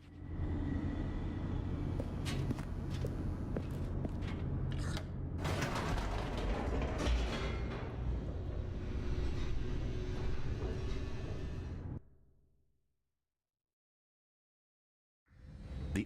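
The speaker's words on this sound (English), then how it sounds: "The elevator raced downward" A clanking, creaking elevator descends in The Stanley Parable, a dense mechanical rumble with rattles and grinding for about twelve seconds before cutting to silence, then briefly resuming.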